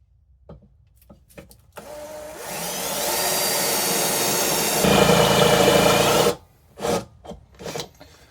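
A drill with a 10mm bit boring into the metal frame of a Honda Shadow bobber, a loud steady grinding whine that deepens midway before stopping, with scattered knocks and handling noises around it.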